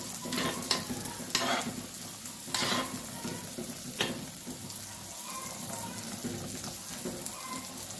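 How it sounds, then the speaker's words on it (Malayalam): A spoon stirs a pineapple pachadi mixture with added salt in a hot pan, making repeated scraping strokes over a continuous soft sizzle at close range, with no talking. "നമുക്ക് നന്നായിട്ടൊന്ന് മിക്സ് ചെയ്യാം."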